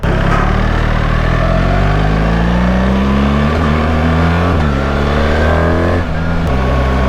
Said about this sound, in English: you hear the downshifts, and it's pretty cool because it rev matches too